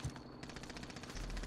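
Rapid automatic gunfire in Call of Duty Warzone, a dense rhythmic burst of repeated shots at steady pace, moderately distant and fairly quiet, with no talk over it.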